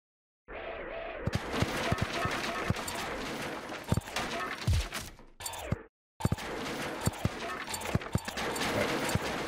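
Weapons fire repeatedly at a tank in the WarSphere video game, a steady stream of sharp, clicky shots that continues for several seconds, briefly cutting out midway, with a voice talking over part of it.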